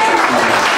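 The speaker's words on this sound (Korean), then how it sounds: "박수 한번 보내주세요." A crowd at a Korean political rally applauds two lawyers in a brief, dense burst of clapping, loud and steady, with a voice faintly audible beneath it.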